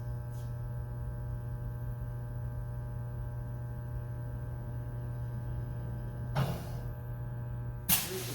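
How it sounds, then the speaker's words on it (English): The drum of a TM 1500 machine rotates back to its home position with a steady, even mechanical hum. Two brief sharp clicks sound near the end as it stops. "Drum will rotate back to home position and stop."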